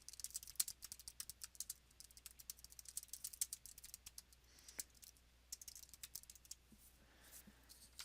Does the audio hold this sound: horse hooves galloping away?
no